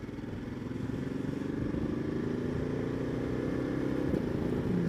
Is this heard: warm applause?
no